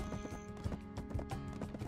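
Horse hooves clip-clop in a steady galloping rhythm while riding in the online role-playing game Black Desert, with layered background music.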